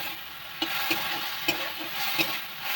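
Food being stirred and fried in a pan, steady broadband sizzle with several sharp scrape-and-clack strokes of the spoon at irregular intervals, close and fairly loud, no voices.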